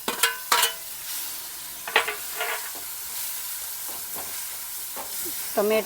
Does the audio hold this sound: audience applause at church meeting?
no